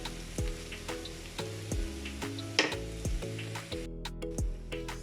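Potato samosa filling cooking in a pan, a quiet, steady sizzle with regular soft ticks and clinks from a utensil against the pan.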